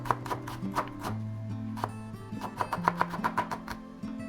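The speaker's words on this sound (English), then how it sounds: "chop onion finely" Onion is chopped finely with a knife on a board for miso ramen: a quick run of sharp, close taps, loose at first and then faster and more even near the end, with no talk.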